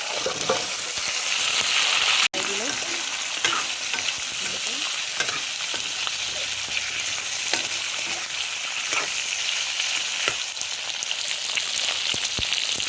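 Garlic, ginger and chili paste sizzles in a hot pan while being stirred, a continuous frying crackle with repeated scraping strokes and one brief dropout near the start, and no talking.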